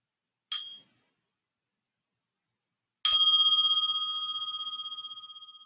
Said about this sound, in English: each cell can actually hear and feel the vibration of the bell